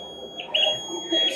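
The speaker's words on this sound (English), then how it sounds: "if we cross the line, then the buzzer alarm will turn" Buzzer alarm of a cheap laser security system project going off, short bright electronic beeps in a few quick bursts, close and fairly loud, with faint room sound beneath.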